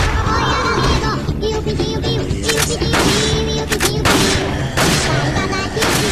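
Blasts and gunfire crackle in Resident Evil 4 as a grenade goes off among enemies, with dense rapid bangs layered over game music and ambient noise throughout.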